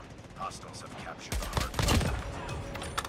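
A rapid burst of gunfire from a DR-H assault rifle in Call of Duty: Mobile erupts about halfway through, sharp repeated shots over a steady background din.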